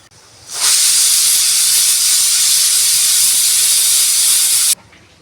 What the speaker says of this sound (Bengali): আহ কি সুন্দর চারটা সিটি হয়ে গেছে